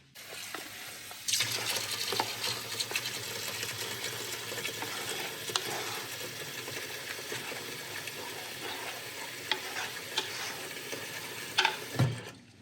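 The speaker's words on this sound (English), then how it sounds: "And then I literally just mix it up with water and stick it on the hob." Water poured into a bowl of oats and protein powder and stirred, with splashing, sloshing and scraping stir sounds heard up close, plus a sharp clink near the end.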